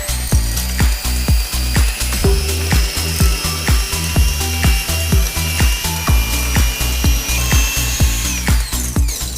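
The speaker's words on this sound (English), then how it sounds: "Get it nice and fluffy in our mixer. And we'll turn this right on low." An electric stand mixer on low speed creams margarine with plain white granulated sugar for royal icing cookies, a loud steady motor whir with a regular rhythmic knocking of the beaters throughout, no talking.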